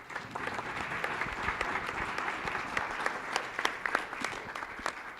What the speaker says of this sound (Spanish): Les pido lo recibamos con un muy fuerte aplauso.